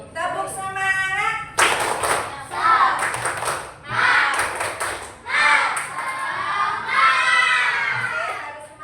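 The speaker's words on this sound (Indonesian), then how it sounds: "Sebelum ini Bu Guru pengen dengar tepuk semangatnya dulu dong." Elementary schoolchildren in a classroom perform a rhythmic clapping chant, bursts of group clapping alternating with loud chanted shouts, a teacher's voice leading between rounds.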